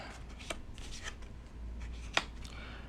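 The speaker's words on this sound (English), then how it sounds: "You're going to push them off and lay them down." Playing cards are pushed off a packet and laid down on a surface in a quiet room, a few soft slides and taps with one sharper snap.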